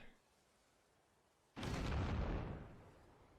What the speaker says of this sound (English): throwing the dynamite behind us